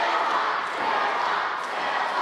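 A dense wrestling crowd roars and cheers continuously at an event in the ring, a loud sustained wall of voices swelling slightly in waves.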